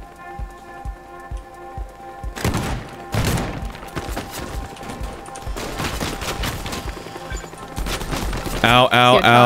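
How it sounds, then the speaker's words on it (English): Gunfire in the Teardown video game, aimed at bringing down a satellite: sparse thumping shots at first, then dense crackling volleys of rapid fire and debris clatter that grow louder toward the end. "I'm gonna go around from the outside and shoot it down."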